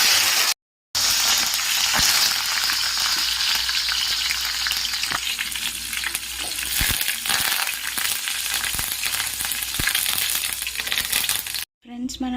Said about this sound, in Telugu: కరివేపాకు కూడా వేయించుకుందాం.